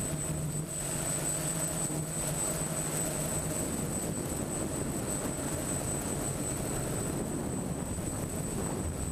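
DJI F550 hexacopter flying forward at full speed, a loud continuous whine of motors and propellers with a high steady tone and dense rushing buzz throughout, no voices.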